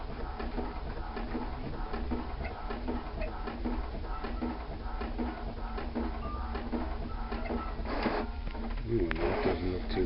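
An inkjet printer with refilled ink cartridges runs steadily with mechanical whirring and faint ticking, its carriage shuttling back and forth, with a louder burst of clatter near the end.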